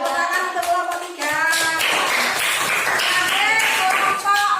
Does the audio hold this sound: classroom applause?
yes